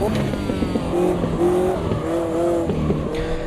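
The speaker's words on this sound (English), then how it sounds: "get the car sliding, and then use the throttle to basically continue that slide all the way through the corner" A Caterham 620R race car slides through a corner at Cadwell Park in the racing game Automobilista 2, its engine droning steadily with shifting pitch while the tires squeal and skid throughout.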